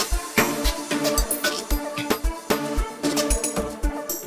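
Dutch Style number 1, a Nexus 2 synth preset in an amapiano beat, plays a dense stabbing pattern over steady punchy kicks, loud and busy with no voices.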